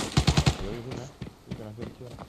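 A rapid burst of four or five loud automatic gunshots from the video game Arena Breakout opens the moment, followed by someone speaking close up as quieter game sounds continue underneath.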